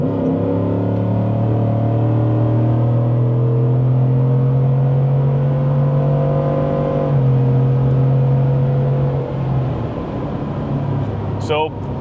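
A tuned truck pulls hard on the highway from about 55 mph, a steady loud engine drone rising in pitch before a shift drops it, with a voice talking over the engine.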